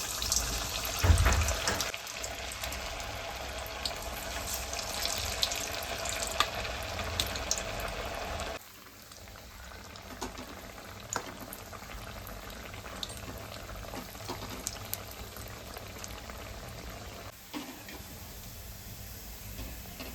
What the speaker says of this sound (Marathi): आता आपण मेंदू वडे तळून घेऊया